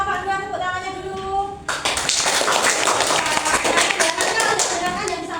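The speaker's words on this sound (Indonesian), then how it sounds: "tepuk tangannya dulu" Primary school pupils in a classroom break into clapping to welcome a group, dense rapid hand claps starting abruptly after a short stretch of talk and carrying on loudly, with voices mixed in.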